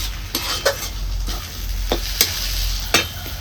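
A spoon scrapes and taps against a pan while sandga bhaji mixture with coriander is stirred, giving several sharp clinks over a steady low sizzle, close and fairly loud with no talking.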